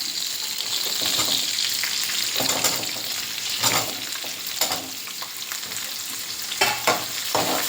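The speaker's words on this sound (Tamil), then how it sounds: "வெங்காயம் போட்டு நல்லா வதங்கட்டும்" Garlic cloves and onion sauté in a pan for a ridge gourd masiyal, a loud continuous sizzle with bursts of crackling and stirring scrapes, close and with no voices.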